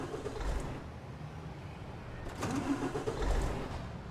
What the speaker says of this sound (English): engine start sounds when they're not actually starting